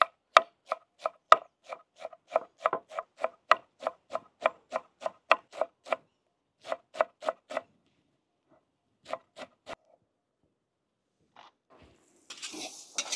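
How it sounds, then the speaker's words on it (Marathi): Coriander leaves being finely chopped with a knife on a board for Maharashtrian egg bhurji: a steady run of close, crisp rhythmic knife taps that pauses, resumes sparsely, then gives way to a faint rustle at the end. "आपण आता कोथिंबीर बारीक कट करून घेऊ"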